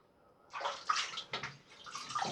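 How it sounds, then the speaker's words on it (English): A razor gets rinsed in water, with quiet splashing and sloshing in a few short bursts close by. "A little rinse."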